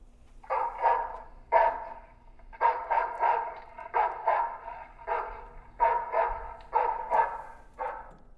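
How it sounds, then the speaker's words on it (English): A dog barking in repeated bursts, played back from a drawer of a sound sculpture, roughly a dozen sharp barks in irregular clusters, fairly close and clear over a low steady hum. "a dog starts barking"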